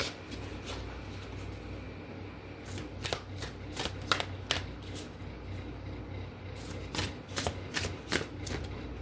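Oracle cards from a spellcasting oracle deck being shuffled, with repeated crisp riffling bursts at an uneven rhythm, close and fairly quiet over a soft room background.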